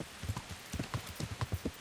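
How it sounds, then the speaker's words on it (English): A horse gallops at full speed down a dark woodland path at night in the game Kingdom Come: Deliverance, quick, faint, evenly spaced hoofbeats over a soft background. "Also not a great time of night to ride a horse at full speed down a dark path"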